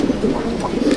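Pigeons coo in a loft, a low, throaty warble repeating close by through a short moment amid a dense hum.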